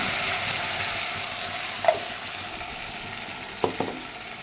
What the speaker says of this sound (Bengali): এর মধ্যে আমার দেওয়া আছে পোস্ত টমেটো আর কাঁচা লঙ্কা পেস্টটা এর মধ্যে দিয়ে দিচ্ছি